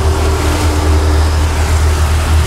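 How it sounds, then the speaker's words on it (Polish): Twin engines of a boat cruising slowly along the Croatian coast between Biograd na Moru and Murter, a loud, steady low drone with a constant hum and wash of water, close and unchanging, no speech. "Te dwa silniki to naprawdę już robią robotę"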